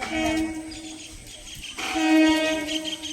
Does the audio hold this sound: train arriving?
yes